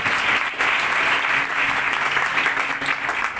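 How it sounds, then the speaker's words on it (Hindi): Steady, dense applause from a crowd at a Christian religious gathering in Azam Town, Karachi, sustained and fairly loud throughout with no voices standing out. "आइए खुदा की बंदी को हम तालियों से वेलकम करते हैं"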